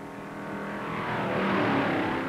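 1958 stock race cars at full throttle down the sand straight of the Daytona beach and road course, a rising engine roar building over about two seconds with no voices.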